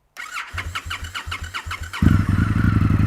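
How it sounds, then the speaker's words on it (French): Starter motor on an Indian FTR 1200 S motorcycle churns through about a dozen rhythmic labored cranks before the twin 600 cc cylinders catch and fire into a loud, deep, rough idle, close up with no talking. "On sent le démarreur à la peine pour allumer ces deux gamelles de 600 cm3"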